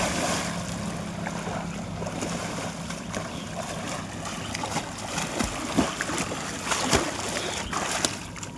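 Water splashes continuously while someone bathes in a pond, with a steady wash of sloshing and occasional sharper splashes, close and fairly loud.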